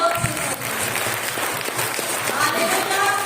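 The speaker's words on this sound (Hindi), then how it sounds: "ताली बजाइए" Congregation clapping at a village gathering in Manpur, a steady dense patter of hands over mixed voices for a few seconds.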